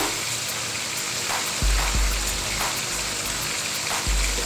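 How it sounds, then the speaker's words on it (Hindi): Cumin seeds frying in hot oil for zeera rice, a continuous loud hiss with scattered popping crackles and a few heavier thumps. "जीरे को हम थोड़ा फ्राई करेंगे।"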